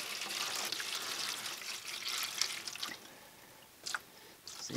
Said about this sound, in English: Then I add a little bit of water.